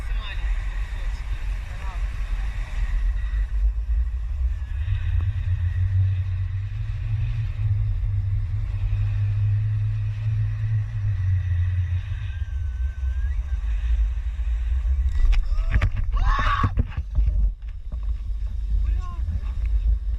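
A motorboat towing people aloft on a parasailing parachute as it circles, its engine a steady low rumble with wind buffeting the microphone, rising briefly in the middle, then sharp clattering bursts near the end; voices talk throughout.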